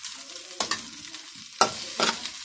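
A simple Thai stir-fry of fried pork and egg being tossed in a pan, with two sharp scrapes of the utensil against the pan over a soft, steady sizzle.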